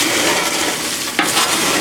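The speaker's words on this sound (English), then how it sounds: "we're just going to give this a big stir" Snack mix is stirred in a deep roasting pan, giving a close, dry rustling and scraping with a brief louder scrape partway through.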